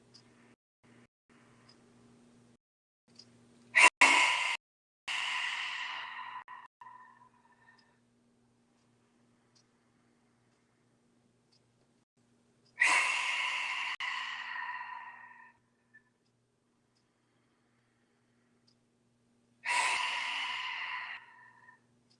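Three long, forceful breathy exhalations of the Simha lion pose yoga breath, each lasting a couple of seconds, separated by long pauses of near silence with a faint steady hum beneath.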